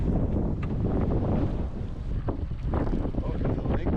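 Steady wind gusts roar over open water, buffeting the microphone with a constant rushing noise.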